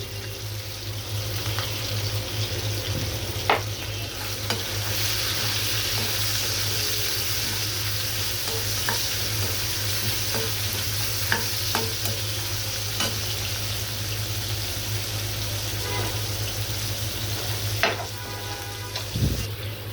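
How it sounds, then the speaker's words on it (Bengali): Red amaranth greens fry with prawns in a pan, giving a constant, dense sizzle close by, broken by a few faint clinks and stirs. "চিংড়ি মাছটা দিয়ে দিব শাকের সাথে। লাল শাক ভাজি করব।"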